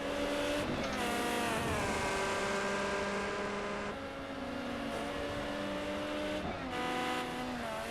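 A Ferrari 355 Challenge race car in a racing video game revs hard and steadily, its high engine note holding and shifting through gear changes, with brief dips and rises and faint tire noise.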